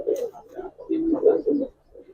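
Giribaz pigeons in a loft coo in several short, close, soft bursts with brief pauses between them.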